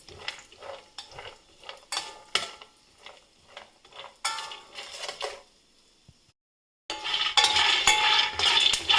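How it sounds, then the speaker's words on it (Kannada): Cashew nuts frying in a pan for dry-fruit laddu, stirred with a spoon that gives repeated scraping clicks against the metal, then a louder steady sizzle after a brief pause. "ಈಗ ಗೋಡಂಬಿಯನ್ನು ಹಾಕಿ ಫ್ರೈ ಮಾಡ್ತಾಯಿದ್ದೀನಿ."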